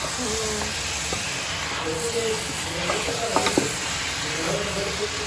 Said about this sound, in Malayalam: നന്നായിട്ട് മിക്സ് ചെയ്തിട്ട് കുറച്ച് ഒരു 10 മിനിറ്റ് ഒന്ന് വേവിക്കാൻ കൊള്ളാം കേട്ടോ ചിക്കന്